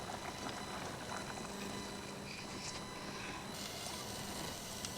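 Chicken bubbles in a pot on a chul after fifteen minutes of cooking, a steady close hiss with fine bubbling texture that continues evenly throughout, without speech.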